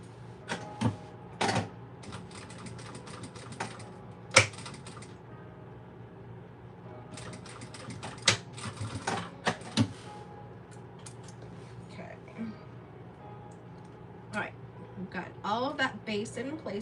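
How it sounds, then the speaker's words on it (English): A cylinder arm sewing machine topstitching a thick up-cycled Gucci bag, running in short bursts of rapid stitching separated by clicks, pauses and handling noise, with a voice speaking near the end. "I think I'm gonna have to do this top stitching on this bag on my cylinder arm because this is pretty thick."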